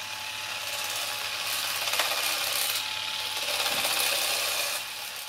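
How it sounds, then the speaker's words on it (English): Bosch Isio cordless shape and edge shears trim a shrub, giving a continuous buzzing, ratcheting cut at close range with small surges in intensity and no voices. "that machine's working really well just trimming this shrub"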